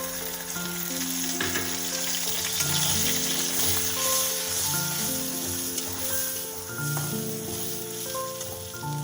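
Onion and garlic paste hits hot oil in a pan while cooking a duck egg curry with cauliflower and potato, giving a loud, steady sizzle that runs throughout, with soft music underneath.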